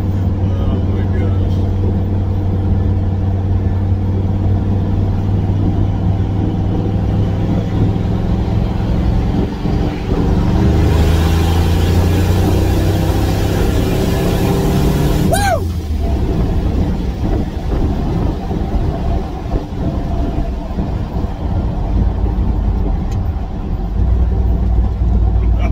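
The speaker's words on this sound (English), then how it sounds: "Did that rip up the hill there, spun sideways going about 50" A turbocharged EFI 460 truck running on E85 revs and accelerates hard up a hill on dry roads, its engine rising in a steady roaring climb with a sharp swell mid-way, and someone talks over it.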